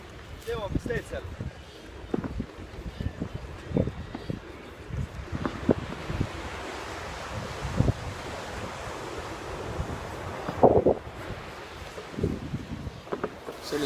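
Ocean surf rolls and breaks along a white-sand Australian beach with turquoise water, wind buffeting the microphone throughout, and scattered voices talking faintly over the steady wash of waves.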